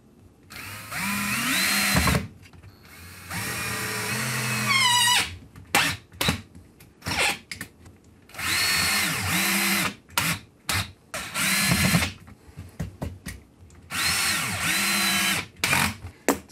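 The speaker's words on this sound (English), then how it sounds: "we can do the pilots for the other side and get those holes drilled in" A power drill bores pilot holes into a wooden speaker cabinet for a 3-way hi-fi kit, with loud bursts of whirring separated by short gaps and quick trigger blips.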